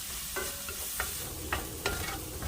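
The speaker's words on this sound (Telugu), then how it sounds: "అదే ప్యాన్లో ఒక సైడ్కి ఒక గుడ్డు పగలు కొట్టుకొని వేయించుకోవాలి." An egg frying in a pan alongside onions and beans, a steady low sizzle with a few quick scrapes and taps of a spatula stirring, close and alone.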